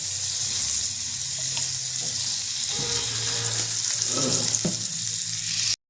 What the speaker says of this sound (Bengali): বাটার দিয়ে দিলাম অল্প। এবার অল্প তেল দিয়ে দেবো।